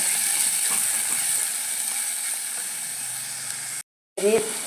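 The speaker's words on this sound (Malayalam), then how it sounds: "നമുക്കതിലേക്ക് തക്കാളി കൊടുക്കാം ഒരു തക്കാളി കേട്ടോ ഇത് ഇത് വഴറ്റി കൊടുക്കട്ടെ" Tomato sautéing in a pan with onion, ginger and garlic for a Kerala brinjal chilli curry, a steady close sizzle with faint scraping clicks, briefly cut to silence near the end before resuming.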